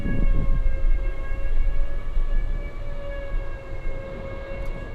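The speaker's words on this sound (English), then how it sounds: "Whoa, big gust of wind coming." Strong wind gusts buffeting an outdoor microphone at Anchorage airport, a continuous loud rumble with steady whining siren-like tones layered on top, no talk.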